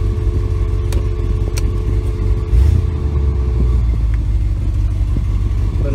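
A 1976 Jensen Interceptor III's engine idles steadily right after starting, a loud, close, low rumble with a brief swell partway through, no voices.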